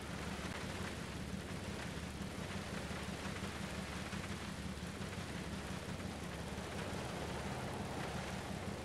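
Video game rain: steady broadband hiss of rainfall, constant and fairly soft, with a low rumbling hum underneath and no voices.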